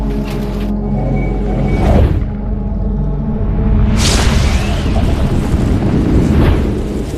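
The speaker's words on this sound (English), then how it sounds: "Among those killed by the collapsing building are Florence Rogers' 8 employees who are with her on the 2nd floor." A powerful explosion at the Oklahoma City federal building, followed by the collapse of the building's floors, heard as a loud, sustained roar and rumble with bursts of crashing debris throughout.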